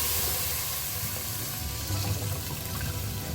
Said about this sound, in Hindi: अब हम डालते हैं इसके अंदर दूध। ले रही हूँ 1 लीटर फुल क्रीम मिल्क,